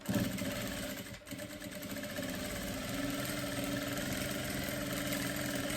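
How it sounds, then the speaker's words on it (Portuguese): Sewing machine running steadily through a long straight seam in fabric, a continuous close mechanical whir with a brief pause near the start, with no talking. "Fazer uma costura reta em toda a volta"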